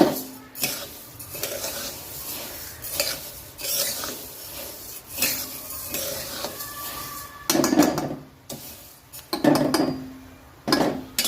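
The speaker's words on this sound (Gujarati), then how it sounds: "આ રીતના આપણે બધી ધાનીને શેકી લઈશું ગેસ ગેસને મેં ફાસ્ટ જ રાખ્યો છે" Coriander seeds roasting in a pan over high gas, giving a steady dry rasping and scraping with intermittent stirring clatter, louder bursts near the end.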